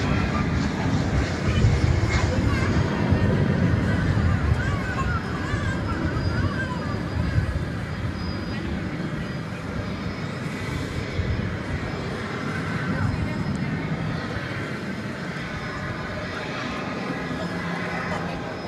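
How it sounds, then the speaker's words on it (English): A large jet airliner takes off at DFW Airport, a steady, loud, broadband roar that rumbles heavily at the low end and holds at similar strength for the whole stretch. "Takeoff on the left on that line, So this big jet has an American flight to Los Angeles in front of it"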